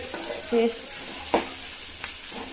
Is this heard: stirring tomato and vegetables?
yes